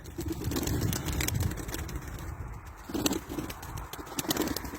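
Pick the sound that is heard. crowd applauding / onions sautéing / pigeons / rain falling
pigeons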